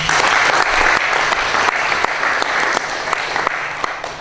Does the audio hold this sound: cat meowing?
no